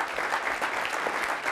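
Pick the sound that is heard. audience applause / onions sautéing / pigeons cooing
audience applause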